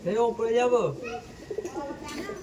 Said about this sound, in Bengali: এটা আছে ফিমেল পায়রা, এটা আছে মেল পায়রা